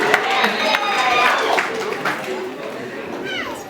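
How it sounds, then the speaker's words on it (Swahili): Wedding guests break into lively applause, a dense patter of hand claps mixed with crowd chatter and voices throughout. "Makofi jameni."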